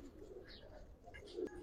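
Pigeons coo softly in the background, a faint low murmur of calls from birds kept for sale.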